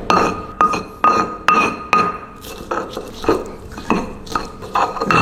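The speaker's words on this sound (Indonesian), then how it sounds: "Jadi kita coba hancurkan untuk bawang merahnya, bawang putih, bawang merah." Shallots and garlic are crushed for a Balinese-style soto, with a steady run of sharp clinking, knocking strikes repeating about twice a second, loud and close.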